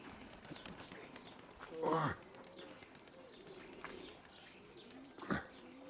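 Young pigeons coo softly at a distance, while two louder, brief sounds stand out at about two seconds and five seconds. A faint outdoor hum runs underneath.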